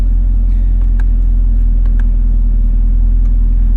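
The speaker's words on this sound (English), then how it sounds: "I've also pulled the exhaust valve fuse in this, so the exhaust is always open now" A Camaro SS 1LE V8 runs with its exhaust valve held open, giving a loud, steady, deep rumbling drone close to the microphone, with no talk over it.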